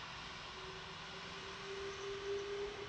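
Simulated airplane taxiing to parking in FSX, a steady low engine drone with a rising whine that swells slightly toward the end, no voices.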